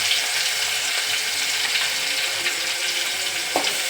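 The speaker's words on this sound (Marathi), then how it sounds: "परतवून घ्यायचं आहे गॅस मंद आचेवर" Green chillies with garlic and cumin fry gently in oil in a pan on low heat, giving a steady soft hissing sizzle throughout with faint stirring clicks and no speech.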